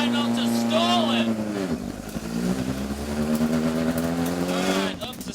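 A vintage Datsun BRE 510 race car revs loudly and pulls away in first gear, engine note climbing and dropping as it works, heard from inside the car with talk over it.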